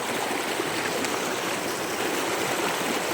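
Steady stream water flows continuously in an outdoor setting, a dense, even rushing and trickling wash that holds at the same level throughout with no voices.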